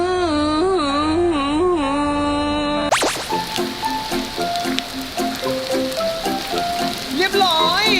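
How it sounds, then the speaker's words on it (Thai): Heavy rain pours outdoors as a dense, continuous hiss and patter. It takes over loudly after a few seconds of sustained tonal sound at the start, and a voice can be heard underneath. "ตกหนักเลยฝน ตกมากเลย"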